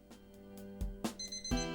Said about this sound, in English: My alarm blares as I wake up.